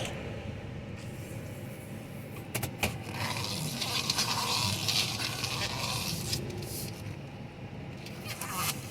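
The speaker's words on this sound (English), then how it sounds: "that noise is my hand rubbing on the steering wheel as I make the turns" Soft scraping and rubbing noises of a hand sliding over the steering wheel while turning in a 2015 Chevy Silverado 2500, in uneven bursts against a hissy background.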